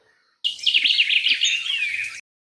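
Birds chirp in a rapid, busy run of high tweets and warbles, close and fairly loud, lasting about two seconds against a silent background.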